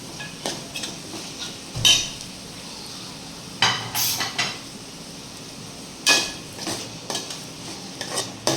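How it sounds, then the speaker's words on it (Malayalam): Chopped tomato, green chili and garlic being stirred in a pan for Kerala-style fish head curry: scattered spoon scrapes and clinks against the pan, with sharp knocks at irregular intervals over a quiet background. "അരിഞ്ഞു വെച്ചേക്കുന്ന തക്കാളി പച്ചമുളക് വെളുത്തുള്ളി ചേർത്ത് നന്നായിട്ട് ഇളക്കണം"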